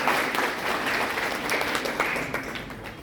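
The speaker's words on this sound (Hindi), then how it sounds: "कृपया जोरदार तालियों से स्वागत कीजिएगा।" An audience at a college Safer Internet Day event applauds enthusiastically, dense clapping that stays loud throughout and eases slightly at the end.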